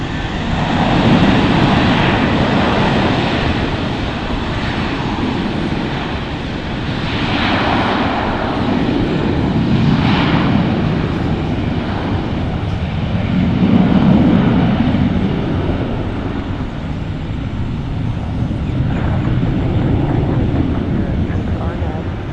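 A JetBlue airliner takes off at Fort Lauderdale airport, its engines giving a loud, broad, sustained roar that swells and fades in waves, with a voice talking over it.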